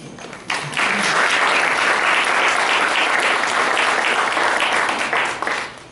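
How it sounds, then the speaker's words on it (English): An audience at a Delta Kappa Gamma Society gathering breaks into full, even applause after a brief quiet start, sustained and close for about five seconds before tapering off. "I'd like for you all to applaud yourselves for it"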